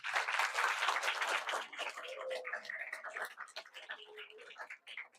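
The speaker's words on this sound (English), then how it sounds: "Let us now give them another round of applause." Audience applause at a public law roadshow after a panel discussion on fundamental liberties, thanking the moderator and panelists; dense clapping fills the first two seconds, then fades as voices and scattered claps continue.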